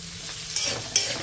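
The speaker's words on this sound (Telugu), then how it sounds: "మీడియం ఫ్లేమ్కి హై ఫ్లేమ్కి అడ్జస్ట్ చేసుకుంటూ మంచి కలర్ వచ్చే వరకు ఫ్రై చేసేసుకోవాలి." Potatoes frying in oil in a pan give a close, steady sizzle, with two quick stirring scrapes cutting through it in just over a second.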